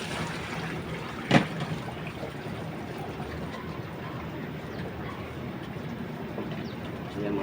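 Water drains and pours steadily as a crayfish tank is emptied and transferred, a low continuous rushing broken once by a sharp knock near the start.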